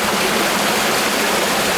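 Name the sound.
cold outdoor shower water running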